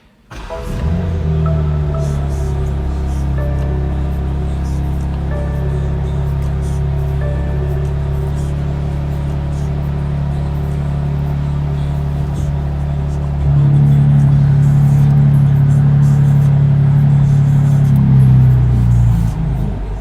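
A 2021 BMW M4 engine starts and settles into a deep, loud idle, its exhaust note rising and turning throatier partway through, close by and steady.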